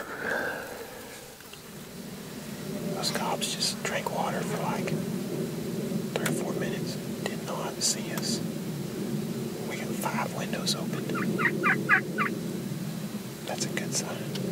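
Wild turkey hens cluck and yelp in short bursts against a soft outdoor background near water, with quiet whispering voices nearby in a hay bale hunting blind.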